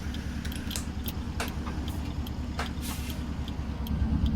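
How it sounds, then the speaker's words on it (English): A truck engine in American Truck Simulator rumbles steadily while short hissing bursts of air brakes release several times, with a low drone underneath throughout. "Oh, hear those brakes. Yeah, we were hard on those brakes."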